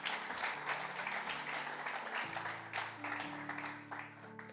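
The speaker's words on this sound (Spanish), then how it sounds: "Le damos un aplauso al Señor." A church congregation applauds during a Spanish-language service, steady clapping throughout with sustained low tones, likely music, beneath it.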